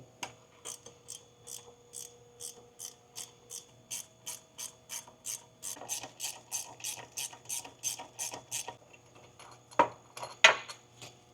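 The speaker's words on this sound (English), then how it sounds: "And then we have two more 14mm bolts, and it should come down from the bottom here." Ratchet clicking away at 14mm bolts on the AC compressor of a Honda S2000, a steady series of close, crisp ratcheting bursts, growing busier near the end with a couple of louder metallic knocks.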